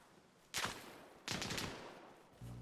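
Two distinct rifle shots in the survival video game DayZ ring out about a second apart, each a sharp crack with a trailing echo, followed by a low tonal sound near the end.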